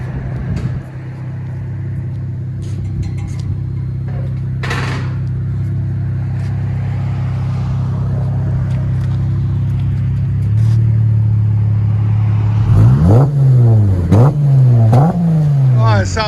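A 2020 Dodge Challenger V6 with dual exhaust and a deleted rear resonator idles with a steady, loud low rumble, then is revved several times in quick rising and falling bursts near the end.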